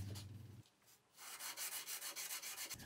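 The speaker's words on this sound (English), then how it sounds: "I cleaned the file marks with a sanding block." Close rubbing strokes of a sanding block on guitar frets, a steady rhythmic scrape after a short quieter pause.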